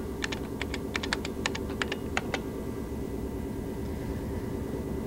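Fast bursts of typing on an old computer keyboard while entering a command at a vintage PC, a flurry of clicky keystrokes over the first two and a half seconds, then only a steady machine hum with no talking.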